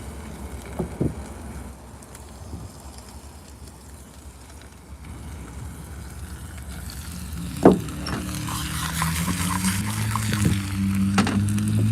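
A thin steak fries in a pan with a steady sizzle that rises and thickens in the second half, a few utensil clicks and a sharp knock near the middle; no one speaks.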